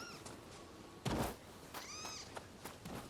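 A cat in the video game Nioh 2 meows several times in short, close calls, alongside a brief thump and soft game ambience.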